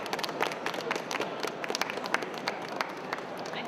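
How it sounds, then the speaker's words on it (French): Audience at a game jam winners' reveal applauding the candidates, a steady patter of many hands clapping at moderate volume, with a few voices faintly mixed in. "On applaudit à nouveau les candidats du coup."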